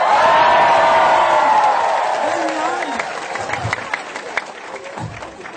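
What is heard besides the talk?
audience clapping and cheering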